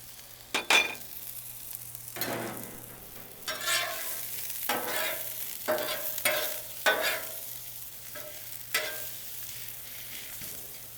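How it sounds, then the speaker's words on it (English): Sliced white parts of green onion stir-fry on a LoCo griddle, an oily hiss punctuated by a run of metal spatula scrapes and taps against the flat top, close and uneven in rhythm, with no talk. "then we'll start stir frying. I'm gonna put the white parts of the green onion."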